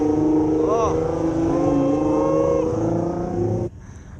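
A single cab Ram pickup with a Hemi engine roars past, a loud steady engine note under excited shouting and talk before it cuts off abruptly.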